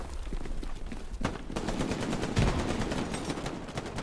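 Faint machine gun fire in Hell Let Loose: quick repeated shots in short rattling bursts that sound somewhat distant, over a low background rumble.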